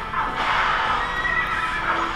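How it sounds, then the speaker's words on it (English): Horse whinny in the video game Dynasty Warriors 8, a long, loud neigh carrying through most of the moment with faint hoof clip-clop mixed in. "he's got a crazy horse"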